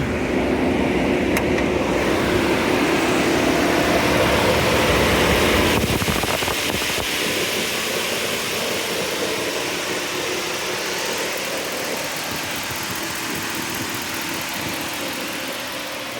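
A 2010 Chevrolet Tahoe LTZ engine idling with the air conditioning and fans running in hot weather, a steady close hum and whir that drops slightly in loudness partway through and then stays even, with no talking.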